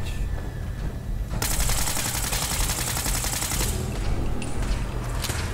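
Turrets in Fallout 4's Nuka World blaze away in a loud, dense automatic stream, rapid shots running nearly without pause through the whole stretch with sharper bursts layered on top.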